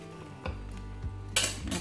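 A wooden utensil scrapes and knocks against a large coated frying pan while a pancake is cut in half, producing soft clatters and a brief louder scrape over a low hum, quiet and close.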